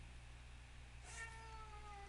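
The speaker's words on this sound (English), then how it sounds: "I apologize about the meowing." A house cat gives a single drawn-out meow partway through, faint against a low steady hum.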